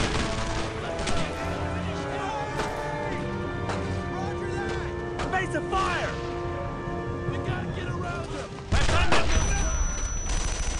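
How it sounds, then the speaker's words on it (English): Heavy suppressing gunfire from World War II rifles and machine guns in the Brothers in Arms video game crackles as rapid, repeated near shots and bursts, with shouted voices over continuous battle noise. "Suppressing fire. Unload on them."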